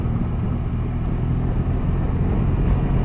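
A BMW GS1200 Adventure TE motorcycle is ridden on the road, its engine producing a continuous low, loud drone mixed with wind rush for a few seconds, with no talking.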